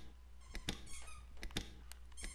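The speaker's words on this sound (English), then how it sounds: "let's go to our special little soundtrack, the Squeaky soundtrack" Squeaky sound effects on a racing broadcast's starting-lineup segment: several sharp, bright squeaks in quick bursts, fairly loud and close, with no talking over them.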